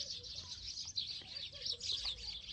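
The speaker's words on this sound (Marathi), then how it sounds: "चिमण्यांची चिवचिव आहे." Sparrows chirp in a city park in Udaipur, a steady stream of small high tweets that is fairly faint and continuous, with no speech over it.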